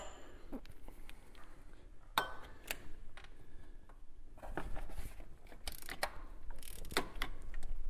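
Ratchet loosening bolts on the water pump of a Jeep Grand Cherokee WJ 4.7-litre engine: irregular clicking pawl ratchets and metallic taps, close and moderately quiet, in several short bursts.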